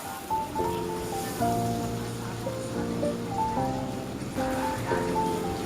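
Mutton and potatoes fry in a pan, giving a steady close sizzle and crackle throughout while a melodic musical tone plays over it.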